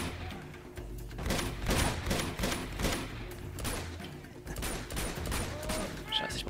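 Gunfire in the Uncharted 2: Among Thieves video game, a sustained fusillade of rapid shots and bursts over several seconds, dense and continuous, with a voice faintly under it.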